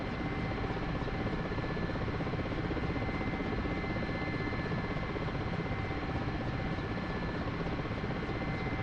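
Mi-8 helicopter rotor and engine noise in a flight simulator game, a steady, loud, dense drone holding unchanged throughout as the aircraft comes in to land.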